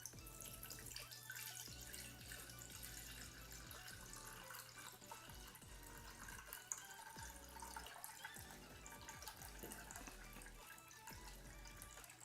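A kitchen tap runs steadily into a pot, filling it with water to cover eggs for boiling, a soft continuous splashing stream heard close and alone.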